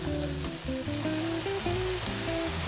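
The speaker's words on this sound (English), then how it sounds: "Get a sizzling effect" Prawns sizzling with sauce in a frying pan, a steady close, loud frying hiss throughout with background music running underneath.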